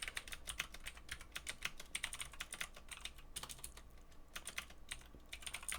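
Rapid, uneven clacking of keys on a computer keyboard, quiet and close, arriving in quick bursts with short pauses between them.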